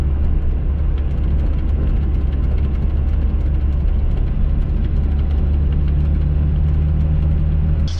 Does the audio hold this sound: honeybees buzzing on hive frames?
no